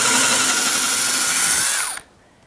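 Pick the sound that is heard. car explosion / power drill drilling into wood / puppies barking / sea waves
power drill drilling into wood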